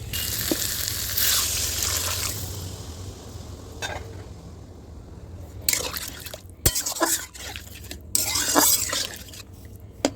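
Water for a small fish curry heats in a pan on the stove, giving a soft steady sizzle and bubbling with a few sharp clinks and stirring noises, no talk.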